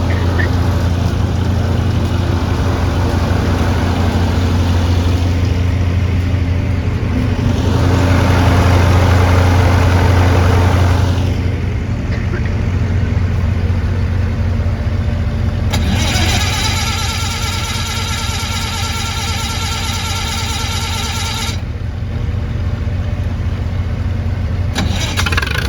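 A Lincoln SA200 engine-driven welding machine that had been sitting for a while, running loud and steady with a deep rumbling engine drone, rising briefly and then settling.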